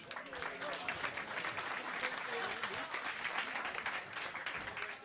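A crowd applauds as people arrive from Schiermonnikoog at a Dutch outdoor prize event. The applause is dense and continuous across the whole stretch, fairly distant and muted, with voices blended into it.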